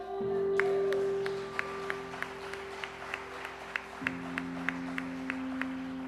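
A church congregation applauding in a slow, even beat of claps over sustained worship music chords, fairly quiet and steady.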